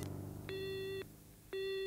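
A telephone handset gives a busy-style tone after the other party hangs up: two steady electronic beeps separated by a short gap, clear and close.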